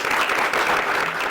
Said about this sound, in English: I think we should give a round of applause to Rose and to Phoebe